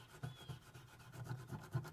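Soft, rhythmic scrubbing strokes of a Brillo pad rubbed against metal jewelry, quiet and close, repeating several times in quick succession.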